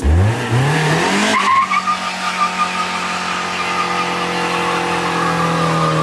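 A Fiat Uno engine revs upward in a rising whine, then settles into a steady loud drone with a brief squeal, no voices heard.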